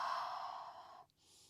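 A long, breathy exhale during a standing mat Pilates calf and Achilles stretch, steady and soft for about a second before fading into quiet, with a faint airy hiss after.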